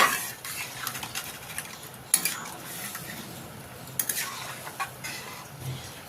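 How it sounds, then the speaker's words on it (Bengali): A spoon scrapes and clinks in a pan as fish curry masala is stirred into added water, with a steady close clatter, light patter and faint sizzle beneath and no talking. "ভালো করে নাড়াচাড়া করে মশলাটা ভালো করে জলের সাথে মিশিয়ে নেব।"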